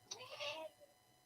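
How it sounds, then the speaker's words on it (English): A cat gives a single short, rising meow at close range, quiet and alone against a faint low hum. "It's the cat."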